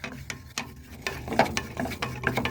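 Flour cooking in melted butter in a pan, a soft sizzle with repeated scraping and stirring strokes, close and fairly quiet.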